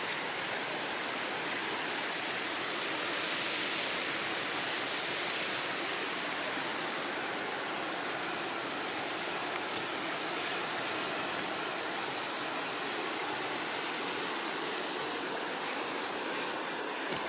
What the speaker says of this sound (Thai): แม่น้ำป่าเนาะ